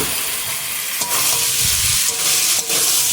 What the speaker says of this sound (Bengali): আবার আলু দিয়ে কিছুক্ষণ কষে নেব।